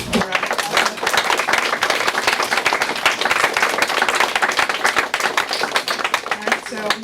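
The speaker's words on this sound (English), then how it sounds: "Let's give a round of applause." Conference audience applauding panelists, a sustained round of sharp, close clapping with some voices mixed in and a voice at the very end.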